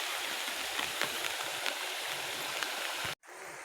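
Stream water rushes over a small waterfall in a steady, close, broadband roar that cuts off abruptly near the end before resuming more quietly.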